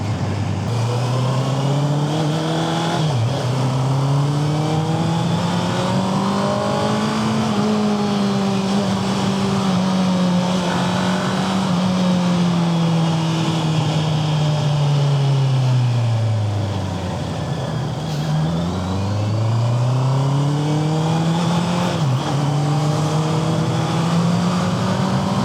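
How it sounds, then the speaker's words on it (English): A Honda CBR650R sport motorcycle with stock exhaust drones steadily up close at night, pitch rising and falling through gear changes, with a sharp dip and recovery near the end as it slows and reaccelerates. "I think Xavier, my bike, even with the stock, the sound is so sweet"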